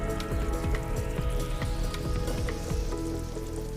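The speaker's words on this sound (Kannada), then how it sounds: "ಫಿಶ್ ಹಾಕೋತಾ ಇದ್ದೀನಿ." Fish pieces dropped into a pot of boiling spicy fish curry, a burst of bubbling, spattering sizzle with scattered splashes and plops running continuously at close range, no voices.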